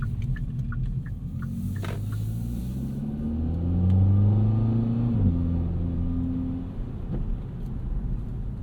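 A 2024 Kia Forte GT's 1.6 four-cylinder engine and exhaust hum while driving, a steady low rumble that rises through gear-like pitch sweeps and eases off, close and continuous with no talking.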